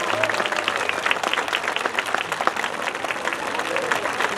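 Audience applause after a folk dance group's performance at a town festival, a steady wash of many hands clapping close by with a few voices mixed in.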